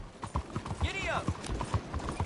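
Horse hooves beat a rhythmic, galloping clip-clop in the Red Dead Redemption 2 video game, mid-distance and steady, with a brief whinny-like call in the middle and speech mixed in.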